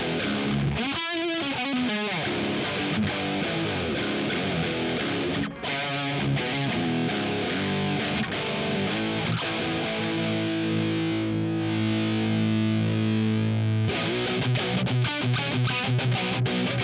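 Electric guitar played through a Rat-style distortion plugin, a thick, saturated riff with sustained chords and a brief break, loud and continuous without voices.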